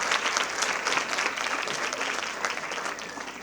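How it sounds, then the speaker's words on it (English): Sustained, dense audience applause at a women in media and communications panel discussion, steady and fairly loud throughout with no voices standing out. "She deserves another round of applause"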